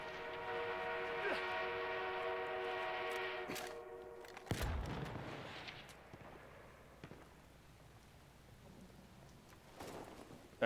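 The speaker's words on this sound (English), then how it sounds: "We have an armored train en route." An armored train approaches in the video game Battlefield 1, its long steady horn-like whistle droning for several seconds before a sharp blast cuts across it, then fading into distant rumbling battle noise.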